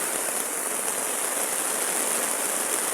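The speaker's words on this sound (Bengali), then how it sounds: "প্রচুর জোরে একটা বৃষ্টি হচ্ছে আর কি" Heavy rain pours steadily onto an open field, a dense, even hiss of water with no breaks, close and fairly loud throughout, with no voices.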